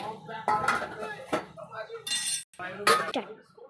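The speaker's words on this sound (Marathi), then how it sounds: "त्याच्यावर झाकण ठेवते मी." A metal lid clanks onto a cooking pot of boiling offal on the stove, a few close, bright clinks and rattles mixed with kitchen handling noises and someone talking.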